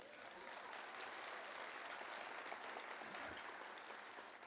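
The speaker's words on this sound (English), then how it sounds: "It's okay to clap for that, by the way." Sustained applause from a commencement audience at Northeast State's Spring 2026 ceremony for the Divisions of Health Professions and Science, a dense, even wash of many hands clapping throughout, somewhat distant in a large hall.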